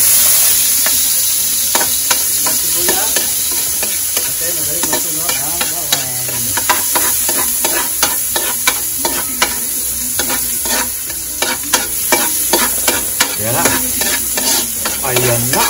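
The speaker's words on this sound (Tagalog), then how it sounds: "At nagigisa ang sibuyas." Onion sautés in hot cooking oil in a pan, a loud continuous sizzle with frequent clicks and scrapes of a stirring utensil, close and alone throughout.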